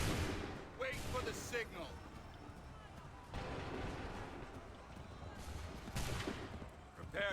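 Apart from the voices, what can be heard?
musket volley fire in Assassin's Creed video game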